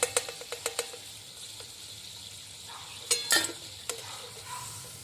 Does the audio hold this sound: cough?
no